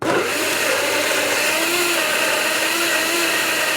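A budget blender roars at full speed, its motor whining and grinding steadily as it churns through a packed load of watermelon and apple, loud and close throughout.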